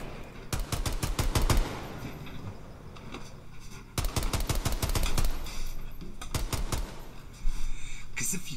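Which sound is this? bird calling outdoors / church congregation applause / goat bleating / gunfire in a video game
gunfire in a video game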